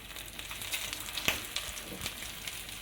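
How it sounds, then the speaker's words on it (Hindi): Mutton raisha kebabs frying in hot oil in a pan over a medium flame, a faint, steady sizzle broken by a few sharp pops and crackles. "अब हम अपने कबाब इसमें ऐड करते जाएंगे और मीडियम फ्लेम पर हमने इनको कुक करना है।"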